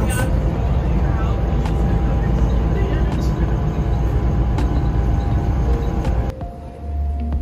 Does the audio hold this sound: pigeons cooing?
no